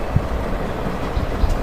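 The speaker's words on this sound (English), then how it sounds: "flying train is ready and going to the next station, and flying train over the very big tree and in the sky" A flying train moving in a video game, a continuous rumbling rail-like drone with faint rhythmic low thumps, steady and close throughout.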